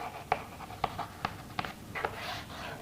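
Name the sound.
writing an example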